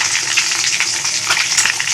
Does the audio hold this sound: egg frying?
yes